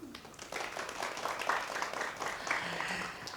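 Soft audience applause at a Korean traditional dance forum, scattered clapping swelling into steady faint clapping heard from a distance for a few seconds.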